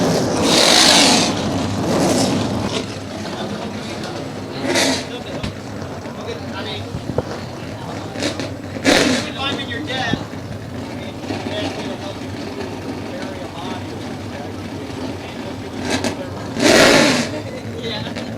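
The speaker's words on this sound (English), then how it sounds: "Drivers, start your engines." Race car engines fire up and rev at Baer Field Speedway before an ARCA/CRA Super Series race, loud engine bursts rising and fading several times amid an ongoing motor drone, with a voice talking over them throughout.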